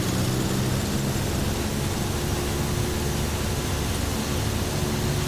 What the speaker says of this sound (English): Four cylinders of Fury, 360 cubic inches, let's go.